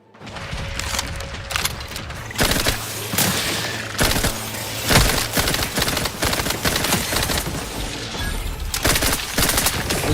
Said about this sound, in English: Let's try the Premium Moon Man SMG.